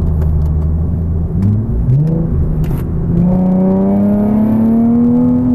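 A Nissan 370Z with its 3.7-litre engine revs, the loud, close engine note rising steadily after a couple of shifts, its pitch climbing smoothly toward the end.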